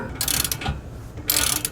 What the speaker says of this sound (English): Grab your torque wrench with a 15/16 inch socket on the top, and we need to torque down this top bolt right here